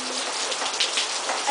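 Steady rain pours down and patters on surfaces, a dense and even hiss that stays loud for the whole stretch, with no voices over it.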